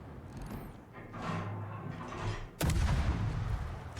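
Naval guns fire in World of Warships around a Tier 8 Soviet destroyer Kiev: a sudden heavy blast lands partway through, leaving a loud rumbling boom over an already busy mix of distant gunfire and engine noise.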